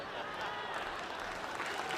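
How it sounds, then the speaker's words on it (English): Clapping in the House chamber during the speakership vote, a steady wash of crowd applause heard faint and distant throughout, with a voice talking over it. "Oh yay, more clapping."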